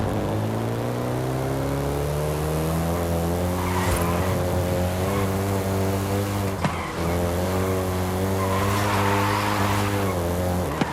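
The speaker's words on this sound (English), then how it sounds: "including the Golf GTI you're driving right now" A Volkswagen Golf GTI in the video game Forza Horizon 5 drives hard, its engine droning steadily with shifting pitch while tires squeal and skid, loud and continuous throughout with no talk.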